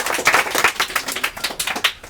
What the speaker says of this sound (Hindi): एक बार जोरदार ताली से स्वागत किया जाए।